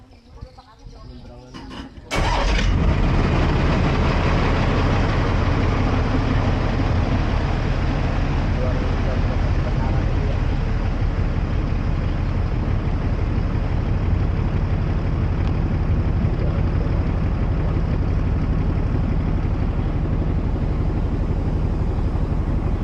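Ferry engine running steadily during a large river crossing in Kalimantan, a loud continuous low rumble that starts abruptly after a brief quieter moment and holds at full level throughout.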